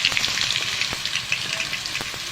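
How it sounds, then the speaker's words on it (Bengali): Potatoes with turmeric and salt frying in oil and being stirred, a close, steady crackling sizzle broken by soft scrapes and light pops. "আমি আলুটা নাড়াচাড়া করে ভেজে নেব"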